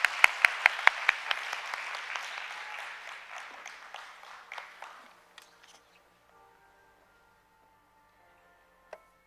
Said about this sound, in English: So another round of applause for Professor Omong, please.